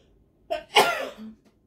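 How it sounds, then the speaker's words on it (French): A single sneeze close by: a short sharp intake followed by an explosive burst and a brief trailing tail, alone with no talking. "je vais éternuer"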